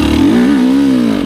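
A GasGas EC250 enduro motorcycle's engine revs loudly and close while riding, one sustained buzzing note that dips and rises slightly over a second.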